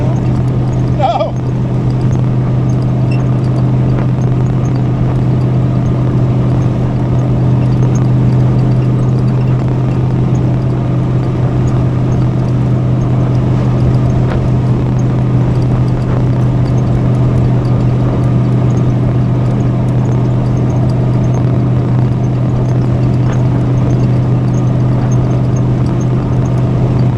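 A rat rod car's engine drones steadily while driving, a loud continuous low rumble with a constant hum filling the whole stretch and no clear break for gear changes.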